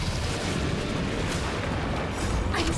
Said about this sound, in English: Detonate!